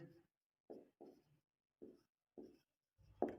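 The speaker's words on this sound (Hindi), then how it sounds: "यहां पे लिखता हूं" Chalk or marker strokes on a board during a Class 10 maths lesson: four or five short scratchy bursts separated by brief pauses, close and fairly quiet, with a slightly louder stroke at the end.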